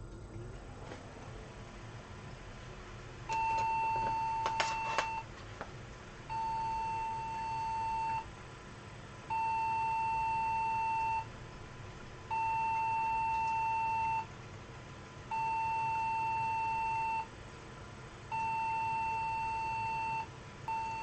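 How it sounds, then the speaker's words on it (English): Socket 370 PC build giving BIOS POST beep codes: a series of six long, evenly spaced steady tones, each about a second long with pauses between, over faint fan hiss. "basically lots of beeps."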